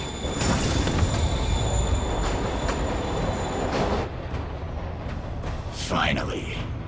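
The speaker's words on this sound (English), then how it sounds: "Train moving." A train in Marvel's Spider-Man rumbles steadily with a faint metallic squeal, loud and continuous, easing slightly partway through as a voice speaks briefly over it.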